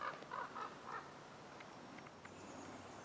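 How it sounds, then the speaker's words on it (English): Ravens heading to their roost near a clubhouse above a spring meadow give a few faint, distant croaking calls early on, then only quiet outdoor ambience remains. "Some of the ravens going to their roost at the clubhouse up there."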